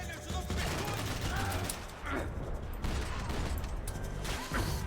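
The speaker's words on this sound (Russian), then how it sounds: "Снизу кто-то стреляет." Gunfire from below in the game Max Payne, heard as dense, dull rattling bursts that are moderately loud and slightly muffled, running over a steady background din.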